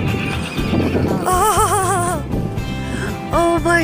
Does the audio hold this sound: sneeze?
no